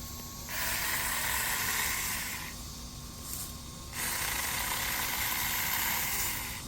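Saker mini cordless electric chainsaw cutting through a branch, giving a steady, close, hissing buzz that dips briefly partway through and then resumes at full strength.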